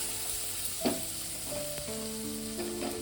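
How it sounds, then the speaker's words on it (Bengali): Garam masala and spices sizzle steadily in hot oil while being sautéed for a chicken curry, a continuous close frying hiss with a few faint clinks of a stirring utensil and no talk. "একটু হাফ চামচ গরম মশলা দিয়ে দিলাম, দিয়ে মশলাটা একটু কষিয়ে"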